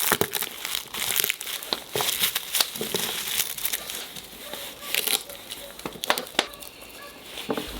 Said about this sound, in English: Let's peel the garlic.